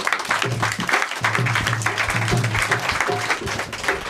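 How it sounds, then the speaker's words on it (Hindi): A congregation at a Hindi-language Sunday worship service claps to thank God, loud continuous applause with voices mixed in beneath the clapping throughout. "चलिए आइए हम सब मिलकर परमेश्वर को धन्यवाद दें, ताली बजा"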